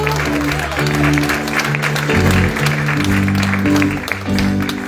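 Church congregation applauding to welcome a pastor, steady loud clapping over sustained organ or keyboard chords, with voices mixed in throughout.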